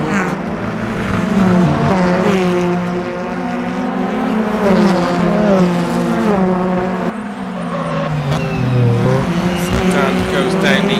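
Touring race cars in a BTCC race at Adelaide in rFactor 2 roar steadily with engines rising and falling through gear changes, loud and continuous, with a commentator talking over the racing.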